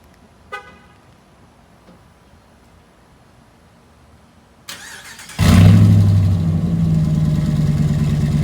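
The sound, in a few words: pickup truck cold start, muffler delete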